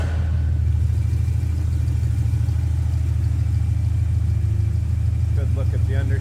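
A 1967 Ford Mustang coupe with a 289 V8, four-barrel carburetor and four-speed transmission idles with a steady low, throbbing rumble close by, a voice briefly heard near the end.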